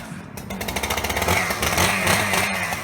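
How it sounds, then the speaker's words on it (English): Chainsaw starting up in the woods: a loud, close two-stroke engine catches with a rapid pulsing sputter, then settles into a steady raspy idle-to-rev drone. "before I fire this up, this is Roger Dotty's chainsaw"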